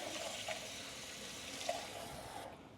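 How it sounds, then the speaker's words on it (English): Water runs and splashes while rinsing out empty tomato cans, a steady faint rush with a couple of small clanks, cutting off near the end. "I'm gonna rinse our cans out with some water"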